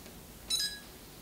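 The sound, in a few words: camera beep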